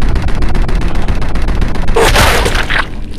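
Sniper rifle shots and explosions from the Sniper Elite 2 video game form a loud, dense barrage of gunfire with a sharper blast toward the end.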